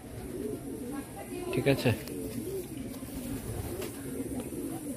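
Female Madrasi pigeons cooing softly in a home loft, a low quiet rolling coo repeating under a brief voice and background murmur.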